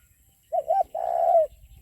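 Dove-like coos, likely pigeons or doves, outdoors during a trip to check fish traps: a short two-note call followed by a longer drawn-out coo, close and clear over a quiet background, with no talking.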